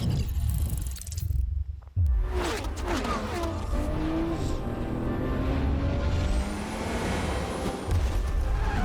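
Engine roar of a car in a Forza Motorsport game trailer, a dense sustained drone with rising and falling pitch sweeps after a brief dropout, loud throughout with music-like layers underneath.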